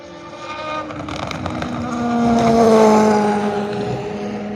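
Race cars run past trackside at night at Le Mans, their engines droning and swelling to a close, loud peak before easing off into the distance, with some wind buffeting the microphone.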